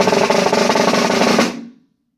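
A snare drum buzz roll played slowed down, a dense pulsing rattle of pressed strokes lasting about a second and a half before ending with a final accented hit and a short fading ring.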